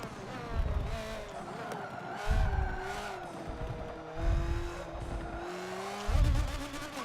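Race car in the Forza racing game, with a revving engine whine rising and falling through gear shifts, low bursts recurring every couple of seconds and a faint tire squeal, moderately quiet.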